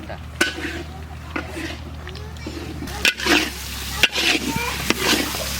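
Tomatoes go into a pan of frying spices for khichuri, bringing quiet sizzling with sharp clinks of a utensil on the pan, then bursts of louder hissing as they land, near and moderately loud.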